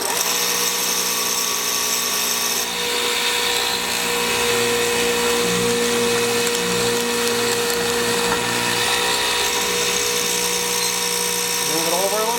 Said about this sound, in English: And what I'm doing here is I'm making a square mortise that's 1/2 inch wide and 2 inches deep and 2 inches wide.